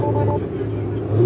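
A simulated Corvette Stingray engine note played through electronic tailpipes on a car being built as a police car, a steady low rumbling drone heard inside the vehicle, loud and unbroken for a moment.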